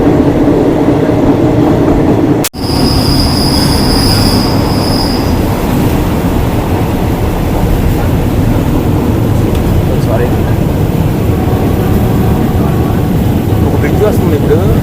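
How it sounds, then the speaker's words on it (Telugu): Train wheels squeal loudly and continuously as a train rolls past on the Death Railway in Kanchanaburi, Thailand, a close, steady metallic grind with a brief high whine near the start. "వస్తుంది ఇప్పుడు ఆ ట్రైన్ చూడండి ఎలా జరుగుతుందో."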